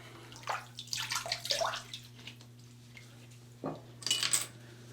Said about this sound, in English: Let's have a rinse.